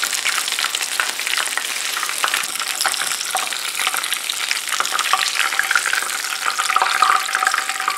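Rolled tortilla taquitos frying in hot oil, a steady, close, crackling sizzle with small bubbling pops throughout, no talking.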